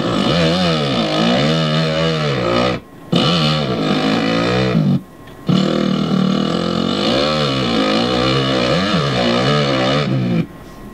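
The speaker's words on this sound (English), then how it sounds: "kind of try to get the sound of the engine struggling" A loud video game motorcycle engine drones and strains at low revs, bogging down, its pitch wavering and sagging, with two brief cutoffs before it labors on again.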